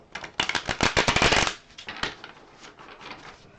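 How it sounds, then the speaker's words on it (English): Playing cards are shuffled up close in a rapid burst of crisp riffling clicks that builds and then stops abruptly, followed by softer, sparser card sounds. "I'm going to start shuffling, shuffling, shuffling"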